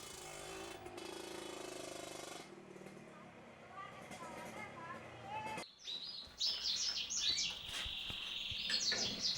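Captive-bred canaries at a breeding business in Magelang, Central Java, chirp in quick bright trills, rising clearly in the second half after a stretch dominated by a narrating voice and background noise.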